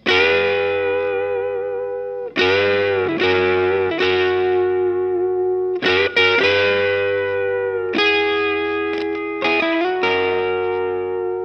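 An electric guitar with chorus and light distortion plays a choppy funky riff in short repeated phrases, bright and upfront, with no voices.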